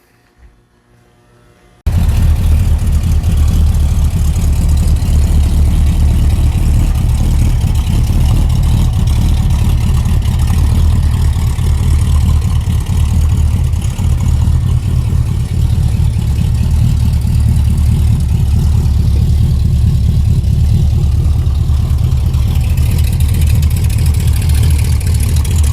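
A recently revived hearse engine idles steadily, loud and close, with a low, even rumble that starts abruptly after a brief near-silent moment and runs unbroken, with a slight rise in intensity toward the end.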